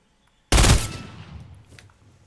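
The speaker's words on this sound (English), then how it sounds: "Alright, we did our first shot. The only thing is now, people are gonna start rushing. They've heard this weapon" A burst rifle in Fortnite fires once, a sharp, loud blast that rings out and fades away over about a second and a half, with no talking.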